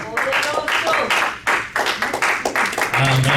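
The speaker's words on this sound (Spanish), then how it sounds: "Ese aplauso es para el Señor Jesús" Church congregation applauding, a steady crackle of many hands clapping throughout, loud and close, with speech running over it.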